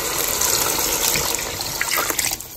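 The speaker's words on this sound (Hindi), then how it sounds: "मैं इसमें पानी डाल देती हूँ" Water poured from a height into a cooking pot of cooked chana masala base for pulao, a loud continuous gushing splash throughout that eases off at the very end.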